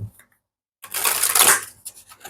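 A tarot deck is shuffled in a quick riffling burst after a brief pause, the papery rustle close and fairly loud, trailing into softer card handling.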